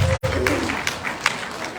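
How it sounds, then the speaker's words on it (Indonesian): An audience at a business success-story event claps in a continuous, moderately loud patter, with a brief dropout near the start and a few sharper claps standing out. "Tolong bantu tepuk tangannya untuk Winner Vision Bapak Ibu."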